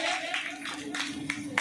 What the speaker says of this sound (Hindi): जोर की ताली मारिबा